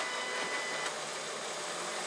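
A home printer feeds a fabric sheet for making labels, giving a steady mechanical whirring hum that runs evenly throughout, close and moderately loud, with no one speaking.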